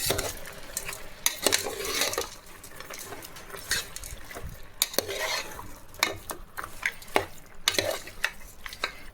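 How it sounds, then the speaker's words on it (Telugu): A spoon stirs mutton sambar in a pot with salt just added, scraping and clinking against the metal in irregular strokes over a soft bubbling sizzle. "వేసి బాగా మిక్స్ చేసుకుందాం."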